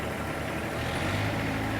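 A John Deere 855 compact tractor engine fires up and settles into a steady, close diesel idle with a low rumbling throb throughout.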